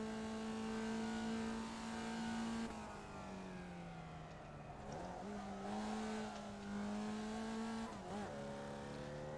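A Formula Vee race car engine in the iRacing video game drones steadily at moderate volume, its pitch dipping and rising with gear changes around turn one, with no talk over it.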